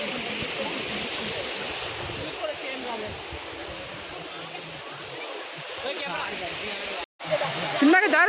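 Ananthagiri waterfall in the Araku valley roars as a steady, dense rush of falling water, continuous and fairly close, with a brief dropout near the end.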